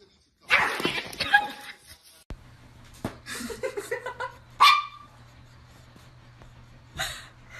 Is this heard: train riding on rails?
no